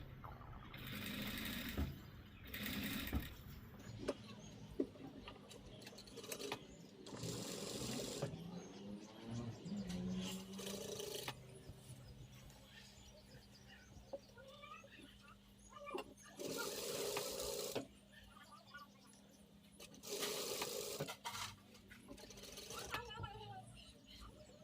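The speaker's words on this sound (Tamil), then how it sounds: "இதுக்கு வந்து கை வச்சு தைக்க போகிறேன்" Sewing machine stitching a sleeve onto a garment runs in bursts of steady motor whirr separated by pauses, close and moderately loud, with someone talking over and between the runs.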